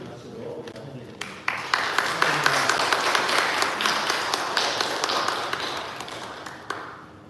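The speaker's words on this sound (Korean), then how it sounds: "나오실 때 큰 박수로 환영해드립니다" Applause from a church congregation greeting a priest, many hands clapping together for several seconds, fairly close and steady, with a few sharper claps standing out before it fades.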